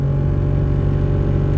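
Inside a Chevy Cat-Eye truck, the blower motor runs loudly on setting 5 with a steady, close humming drone and strong low tonal whine. The sound stays constant throughout, with a slight pulsing texture and no speech.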